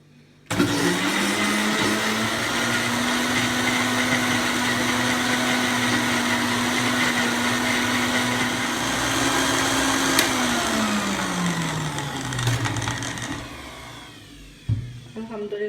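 A blender whirs through shawarma garlic sauce, a loud, steady motor whine holding for about ten seconds before it winds down and slows to a stop.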